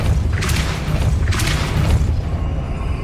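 Depulso force spell cast in Hogwarts Legacy on PS5, a loud, deep booming blast with two rushing surges about a second apart, then tailing off.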